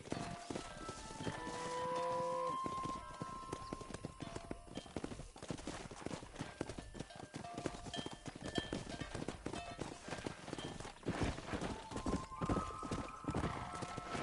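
Horse hooves clip-clopping at a steady pace while riding and herding cows in the video game Red Dead Redemption, with a whinny near the start and faint voices over the continuous rhythmic beats.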